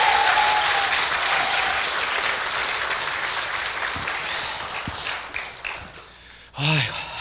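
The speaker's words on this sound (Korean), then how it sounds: "다시 한번 뜨거운 박수 부탁드리겠습니다." Audience applause during a tenor's testimony concert at a church in Daejeon, filling the space with dense, sustained clapping that slowly thins out before a short voice breaks in near the end.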